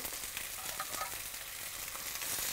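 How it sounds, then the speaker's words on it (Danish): Chicken pieces fry skin-side down in a hot pan with a little oil for a flambéed curry chicken, giving a steady, close, continuous sizzle and crackle with no talking. "Så jeg lægger kyllingen på, på skinsiden, så vi får stegt den rigtig pænt af først."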